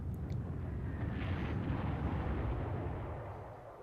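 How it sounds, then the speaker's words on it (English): Level bombers unleash explosions in the World War II strategy game Panzer Corps, a dense, continuous low rumbling blast that holds loud and broad before slowly fading. "Our level bombers start attacking."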